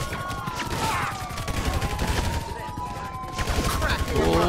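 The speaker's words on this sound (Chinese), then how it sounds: "什么枪啊？ 卡宾步枪。" Carbine rifle gunfire in a GTA 5 zombie mod rattles in dense, continuous bursts, loud and busy with game effects and tones layered over the shots, and a voice briefly heard beneath.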